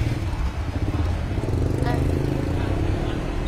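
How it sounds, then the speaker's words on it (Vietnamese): A 2016 Honda scooter engine starts and settles into a steady, close, low idle rumble lasting several seconds, with background voices and clatter around it. "nổ máy đi con"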